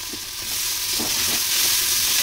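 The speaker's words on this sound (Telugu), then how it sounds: "తర్వాత పుదీనా, కొత్తిమీర ఇది మొత్తం వేసి దాంట్లో ఫ్రై చేయాలి." Mint, coriander and onion fry in a pan for chicken biryani: a steady, close, dense sizzle with a few faint stirring knocks, no talk.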